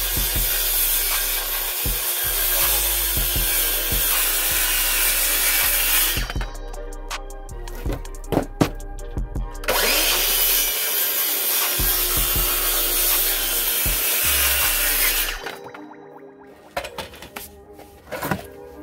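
A plywood base plate being hand-sawn for a shipping crate, with steady back-and-forth rasping strokes that pause briefly midway, then resume loud and close before stopping near the end.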